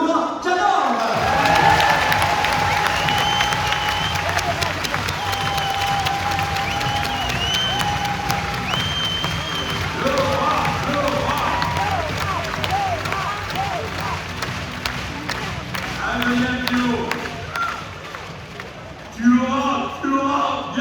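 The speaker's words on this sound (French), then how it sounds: "J'aimerais qu'on applaudisse bien fort Laura Canor." Arena audience at an end-of-season awards ceremony for the BBH club claps and cheers a departing member. It is a dense, sustained crowd roar with music running underneath, and a voice comes in near the end.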